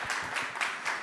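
Audience applause after a panel discussion at a conference, a short steady patter of many hands clapping at moderate distance, with no voices over it.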